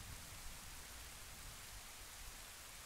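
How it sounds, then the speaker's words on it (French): Steady rain summoned by a song in the video game Zelda: Majora's Mask hisses as an even, faint wash of noise with no other sounds. "Oh non, pas la pluie!"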